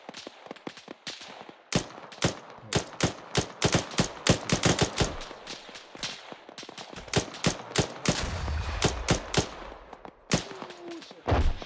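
ARMA 3 gunfire in a town defence firefight: dozens of sharp, loud shots in irregular bursts and rapid strings, with a deeper rumbling engine-like swell late on; no talking.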